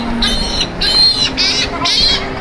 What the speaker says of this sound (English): I dropped the bone and the birds are swarming me.